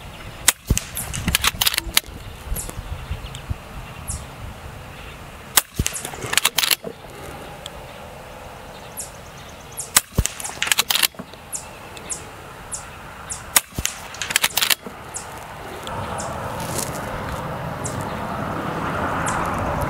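Edgun Leshiy air rifle fired in a rapid string of about ten sharp shots, sometimes in close pairs, spread across an outdoor setting with light wind noise rising toward the end.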